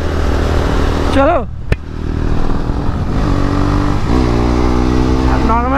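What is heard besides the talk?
Yamaha R15 motorcycle accelerating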